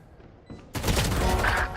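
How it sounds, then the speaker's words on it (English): Loud, rapid gunfire in the video game Valorant erupts suddenly after a short quiet lead-in and continues as a sustained burst. "Heard the gunshots"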